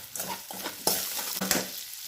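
Onions fry in oil in a pot being cooked for chicken curry, a soft close sizzle with several sharp scraping stirs of a spoon against the pan, no speech.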